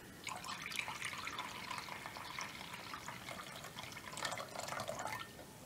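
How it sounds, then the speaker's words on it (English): Cooled syrup poured into peach juice, a faint steady trickle of liquid with light splashing and dripping, continuous and fairly quiet throughout. "we're going to take our syrup from earlier on, which has cooled down a fair bit, and we're just going to add that into the peach juice there"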